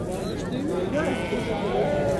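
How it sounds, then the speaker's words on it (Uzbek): Lambs bleat at a busy sheep market in Chust, their cries overlapping against a constant crowd murmur and background talk. "Qo'zilarni ko'rsatib o'tamiz."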